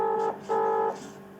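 Phone keypad tones from a number being dialed: two clear steady beeps, each about a third of a second, separated by a short gap, with a fainter third tone starting at the end.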